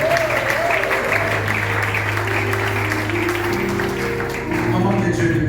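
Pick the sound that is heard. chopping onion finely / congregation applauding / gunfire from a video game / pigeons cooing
congregation applauding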